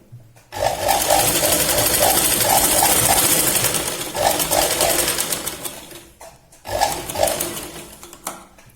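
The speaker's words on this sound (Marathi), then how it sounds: "बस या पद्धतीने परत याला आपण स्टिच करून घेऊया." Sewing machine stitching a katori blouse fabric, running in loud, steady bursts of rapid mechanical chatter with short pauses between runs, close by and alone.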